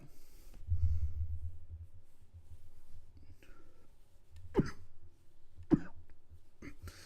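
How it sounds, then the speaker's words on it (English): Two sharp, explosive asthmatic coughs stand out a second apart over a low rumbling background, preceded by quieter breathy throat noises. "Excuse the coughing, everyone. I have asthma."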